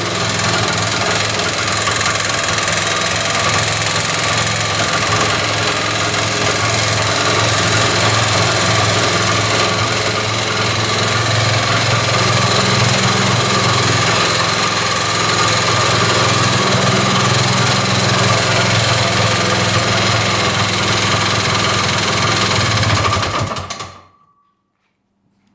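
An old snowmobile engine, untouched for some 40 years, idles steadily on its own after its carb was primed, a loud continuous near buzz that holds for about 23 seconds and then cuts off abruptly.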